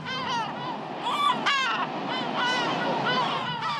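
Gulls defending their nesting site give harsh, repeated calls, several birds crying close by in quick overlapping bursts over faint wind and surf.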